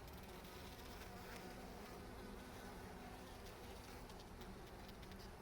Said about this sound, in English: I see 2 more frames with bees on them